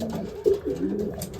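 A pair of racing pigeons coo softly and close by, giving one brief low throaty coo followed by a quieter rolling murmur within about a second.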